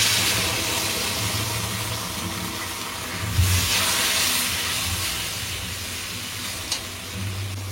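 Spice paste with ginger paste sizzles steadily in a hot pan with fried coconut during a vegetarian kakrol (spiny gourd) recipe, a continuous frying hiss with a couple of brief louder spits.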